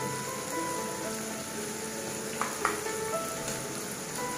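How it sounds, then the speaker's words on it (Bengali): Chopped ginger and garlic fry in oil with a soft, steady sizzle close by, broken by a couple of brief scrapes near the middle. "আদা কুচি আমি তেলে একটু দিয়ে দিচ্ছি সবগুলি একসাথে ভালো করে ভেজে নিব"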